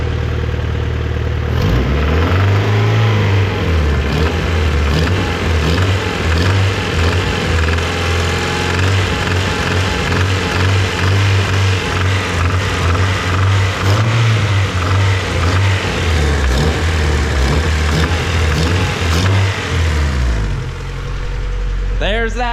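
A Honda EK engine runs with a knock, a loud steady idle with repeated revs rising and falling, a voice talking over the engine.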